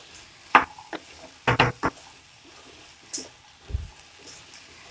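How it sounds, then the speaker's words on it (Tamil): Cut okra being stirred into masala in a pan: a handful of scraping, clattering strokes of a spoon against the pan, irregular and close, with quiet gaps between. "இப்போ நல்லா வெண்டைக்காயை நல்லா அந்த மசாலாவில் நல்லா மிக்ஸ் பண்ணி விடுங்க."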